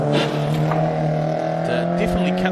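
BMW rally car on a gravel stage at Rally Otago, its engine holding a steady loud drone as it passes close by, with gravel rattling against the underbody and people talking over it.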